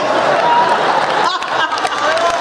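Audience applause at a Hindi comedy poetry gathering (hasya kavi sammelan), a steady close wash of clapping from the crowd that swells and continues throughout without talk.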